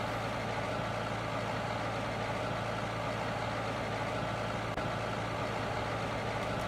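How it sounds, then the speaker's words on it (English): Tractor engine idling in the Farming Simulator 15 game, a steady low mechanical drone with a constant hum, running continuously without voices. "And I'll just shut that tractor off."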